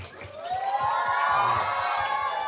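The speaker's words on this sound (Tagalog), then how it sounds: "Palakpakan natin ang ating mga hurado ng may kasamang hiyawan." A crowd at a school event cheers and shouts loudly for the judges with scattered clapping, a sustained wash of excited voices and whoops throughout.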